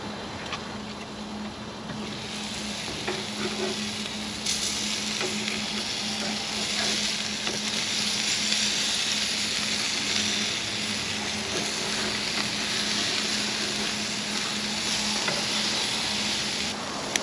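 Burgers fry in bacon fat with a steady, loud sizzle and crackle that holds without a break, heard up close, with no speech over it.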